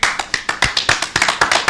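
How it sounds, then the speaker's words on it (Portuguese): A small group claps for the guest Adonai on the Hub41cast podcast, a close, brisk run of sharp claps in a quick, fairly even rhythm with no talk over it. "Palmas para Adonai"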